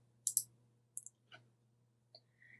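Several sharp mouse clicks on a computer while setting up a WooCommerce website, scattered singly and in quick pairs over a quiet background with a faint steady hum.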